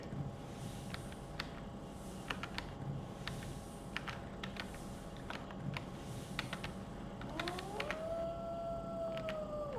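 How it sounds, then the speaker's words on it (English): Wolf howl in the survival game UnReal World, rising and wavering near the end, faint and distant over the steady clatter of keyboard typing. "Howl from the southwest."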